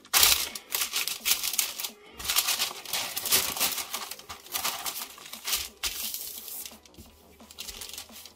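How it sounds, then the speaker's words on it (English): Sheet of baking paper being folded by hand, with close, crisp crinkling and rustling bursts that come in uneven waves, pausing briefly between creases. "And now I will fold this baking paper."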